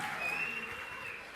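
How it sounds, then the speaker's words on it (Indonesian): Audience applause at an Indonesian church sermon, a steady dense wash of clapping heard alone at moderate level, with faint tonal whistles or cheers running through it. "Tepuk tangan yang meriah untuk kemuliaan Tuhan."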